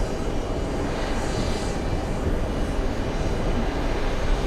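An airliner flies in toward JFK airport, a loud, steady broadband engine roar that holds continuously and fills the whole stretch without pause.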